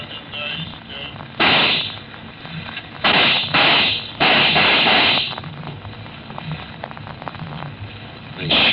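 Gunshots ring out in an old-time Western radio drama about Billy the Kid, several loud, harsh blasts in quick succession between stretches of quieter dialogue.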